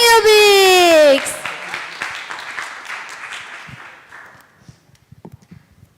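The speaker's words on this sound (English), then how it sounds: "Big applause for Tung Tung" An audience applauds a team called Tung Tung Yubix at the Proto-A-Thon 2026 event, a crowd of claps starting right after a brief sustained musical tone and steadily thinning out to a few scattered claps.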